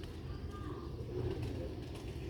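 Sialkoti pigeons coo softly and low, a faint, steady murmur of throaty calls with no voices over it.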